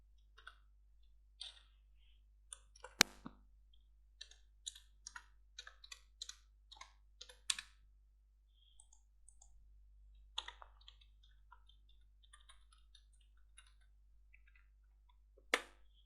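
Details typed on a computer keyboard: quiet, irregular bursts of crisp key clicks with short pauses between them in an otherwise silent room.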